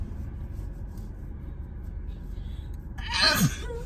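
A person riding in a car on the way to school lets out a single sharp sneeze near the end, loud and close above a quiet, steady road rumble.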